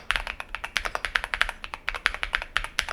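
Soft, muted mechanical keyboard typing, a steady run of quick clacky keystrokes close to the mic with no talking.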